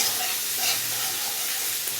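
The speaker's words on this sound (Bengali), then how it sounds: "আমি আজকে হচ্ছে চিংড়ি মাছ, বড় বড় চিংড়ি মাছ ভুনা করব অল্প করে" Large shrimp sizzle in a pan while being cooked into a shrimp bhuna, a steady soft frying hiss with faint crackles and no talking.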